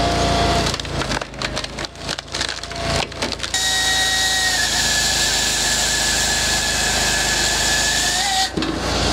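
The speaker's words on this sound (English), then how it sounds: "since I started sawing, it's picked up a little speed going through the wood" A Brute EXT sawmill saws through a log with a steady, loud whine that holds a rising tone throughout, after a burst of choppy mechanical clatter at the start; no one speaks.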